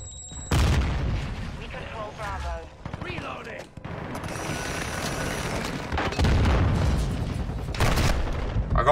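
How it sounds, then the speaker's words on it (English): Semtex grenade explosion in a Call of Duty shotgun match, a heavy boom amid rapid in-game gunfire and blasts, with a player talking over the loud, continuous combat. "Throwing Semtex!"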